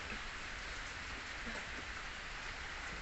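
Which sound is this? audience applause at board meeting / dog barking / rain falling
rain falling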